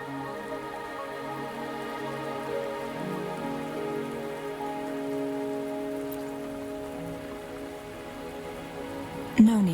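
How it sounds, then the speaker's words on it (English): Steady rain pattering on surfaces in the video game Wuthering Waves, a soft continuous hiss beneath sustained musical tones, with a sharp brief sound right at the end. "Are you trapped here by the rain?"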